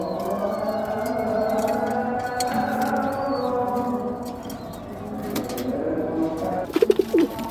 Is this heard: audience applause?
no